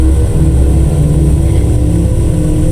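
A car engine in a video game roars loud and steady throughout, with a dense continuous rumble and a slight rise like revving, close up and filling the whole stretch.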